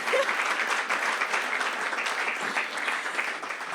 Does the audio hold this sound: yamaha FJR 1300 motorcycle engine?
no